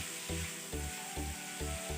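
Kaleji (liver) frying in a pan, a steady loud sizzle broken by regular bursts of stirring about every half second, with no voices.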